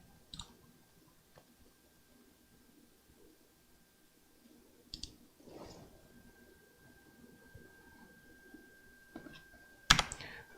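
A few sparse, faint keyboard taps on a computer keyboard with moved-around keys, ending in a louder burst of clicks, heard close in a quiet room without talk.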